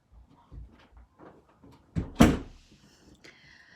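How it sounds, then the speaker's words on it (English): A door being shut nearby, a soft single thud after a few faint footsteps. "Excuse me, can you shut my door?"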